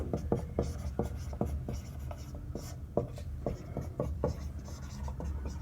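A teacher writing out a percentage maths problem by hand, a close series of quick scratchy strokes with an irregular rhythm, faint and with no talking.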